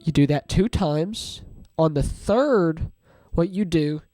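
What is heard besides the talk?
None of the usual background noises is heard.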